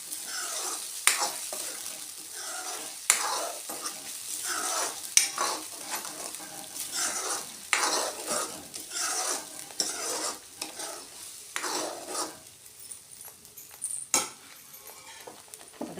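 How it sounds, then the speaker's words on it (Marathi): A spoon stirs and scrapes through spices roasting in hot oil in a pan for paneer masala, with a steady close sizzle broken by repeated sharp metallic clinks against the pan. "हे सगळं व्यवस्थित तेलामध्ये भाजून घ्यायचं आहे."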